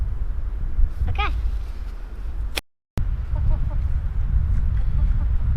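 Chickens cluck in a backyard pen kept alongside geese, with a few rising calls near the start and scattered clucks later over steady outdoor background noise.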